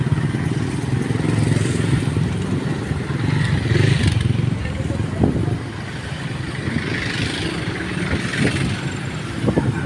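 Road traffic on a route from a mountain barangay to town, a motorcycle passing close with a loud engine drone plus rattles and scrapes over continuous road rumble.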